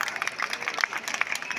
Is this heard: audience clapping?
yes